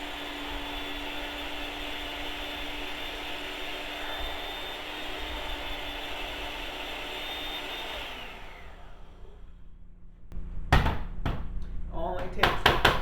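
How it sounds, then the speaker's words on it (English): A steady high-pitched motor whine from a blender or grinder milling long cooking oats into flour for several seconds, then the motor winds down and is followed by a few knocks and clatters. "And we're just going to grind them to flour."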